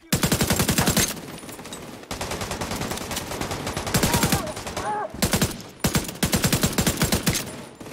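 Rapid automatic weapon fire from the video game The Division 2 rattles in several loud sustained bursts separated by short pauses, with faint voices briefly heard between volleys.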